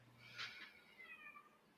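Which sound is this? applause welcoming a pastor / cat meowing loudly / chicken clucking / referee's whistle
cat meowing loudly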